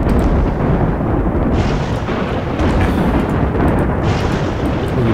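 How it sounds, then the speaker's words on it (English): A big explosion in RimWorld, fitted with the BIG Bang turret mod pack, rolls on as a loud, sustained rumbling roar with repeated booming surges for several seconds, nobody speaking. "Pretty cool explosion, to be honest."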